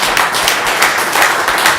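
Steady applause from an audience at a St. Charles County Council meeting, many hands clapping together in a loud, dense, continuous patter without a break.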